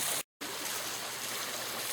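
Water from a garden fountain flows in a steady, even wash of trickling and splashing, close and continuous apart from a brief gap of silence near the start.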